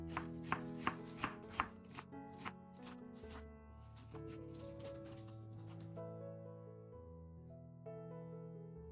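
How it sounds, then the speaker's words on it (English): A knife taps rapidly through half a peeled onion on a board for salsa, a quick run of sharp chops over the first two seconds that then gives way to a sustained tonal hum. "Peel it and chop it finely so the flavor stands out more."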